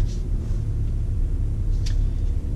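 A 2019 Subaru Ascent SUV drives along, giving a steady low road rumble heard from inside the cabin, with faint brief ticks and no talk.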